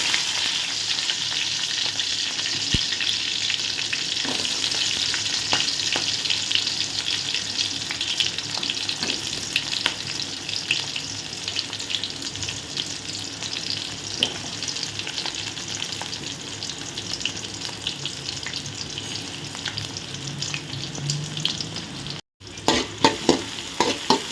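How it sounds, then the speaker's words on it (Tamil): Continuous sizzling of onions and green chillies sautéing in a pan, with scraping stir sounds now and then and a brief break near the end. "வெங்காயம் பச்சை மிளகாய் நல்லா வதங்கட்டும்"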